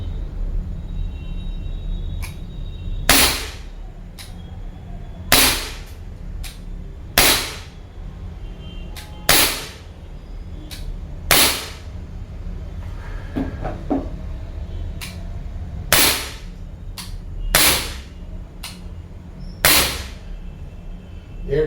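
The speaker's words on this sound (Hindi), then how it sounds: "तो गन को फायर भी किया, कॉक किया।" A Sig Sauer P226 CO2 BB pistol fires about a dozen sharp, loud cracks at irregular intervals of one to two seconds, close by, with quieter clicks and handling noise between shots.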